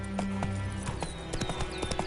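Hooves of Geralt's horse Roach clip-clop in a quick rhythm in The Witcher 3 video game, close and steady, with a brief voice and faint game sounds around it.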